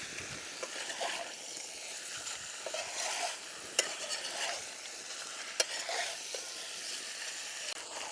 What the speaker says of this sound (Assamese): এতিয়া আমি এখানি বঢ়িয়াকৈ আৰু ভাজি থাকিম